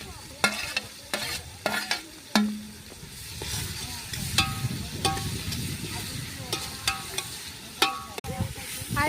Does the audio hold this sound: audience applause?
no